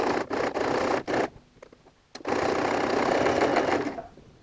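A sewing machine stitches a dress shoulder seam with a normal stitch, close and fast, in two runs broken by a brief pause, then easing off at the end.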